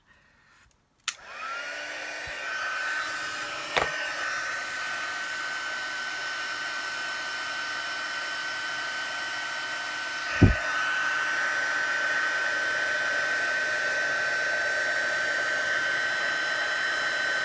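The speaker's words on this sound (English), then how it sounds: "I'm putting my heat embossing tool on now." A heat embossing tool switches on and blows hot air in a steady, loud, hair-dryer-like whoosh with a high whine, continuing without pause, a couple of faint clicks along the way.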